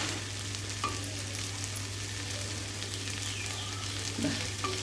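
Chicken pieces for Kerala-style kondattam fry with ground coriander and spices in a pan, a constant close sizzle with faint stirring scrapes and small pops, steady in level throughout and free of speech.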